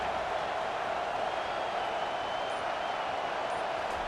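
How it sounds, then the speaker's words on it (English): In an EA Sports college football video game, a packed stadium crowd at Tennessee roars steadily and loudly, one continuous wall of noise with no letup. "Listen to this crowd just shaking the girders of this place"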